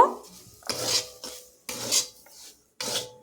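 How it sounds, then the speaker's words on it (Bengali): Semolina roasting in ghee in a pan is stirred in three distinct bursts, each a close, gritty scraping rasp of a spoon across the pan bottom separated by brief silences, with no talking. "জাস্ট এইভাবে আমি সুজিটাকে পাঁচ মিনিট ভেজে নেব"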